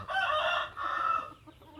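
A rooster in a home chicken coop gives one loud, close crow in two drawn-out phrases, with no other sounds around it.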